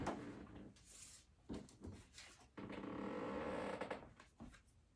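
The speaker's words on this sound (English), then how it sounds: "Squeaky chair." Squeaky chair creaking in several separate strained creaks and squeals over a few seconds, one longer drawn-out creak near the end, moderately close and quiet, no talk.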